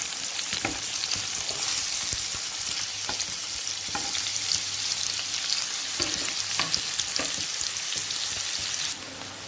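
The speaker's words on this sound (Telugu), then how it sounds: "జీలకర్ర లైట్గా ఫ్రై అయిన తర్వాత ఉల్లిపాయ ముక్కలు" Cumin seeds and onion pieces fry in hot oil for a Guntur-style chicken curry, giving a steady close sizzle with intermittent spatula scrapes and taps, fading slightly at the very end, with no voices.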